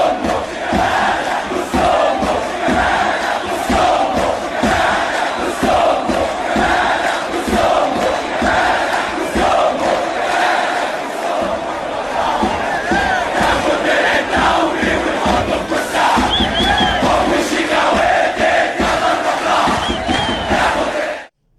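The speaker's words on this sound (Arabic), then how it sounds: "هذا الجمهور وهو بيتنمر على شيكابالا بمنتهى قلة الأدب ومنتهى السفالة" A large football stadium crowd chants and jeers loudly at Shikabala, a dense, continuous roar of massed voices with rhythmic chanting that holds steady throughout before cutting off abruptly at the end.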